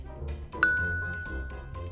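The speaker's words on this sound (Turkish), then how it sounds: "Aa bildirim geldi." A single bright notification chime rings out in the Rock Star Life Simulator game, a clear bell-like ding with a lingering tone heard over quiet background game music.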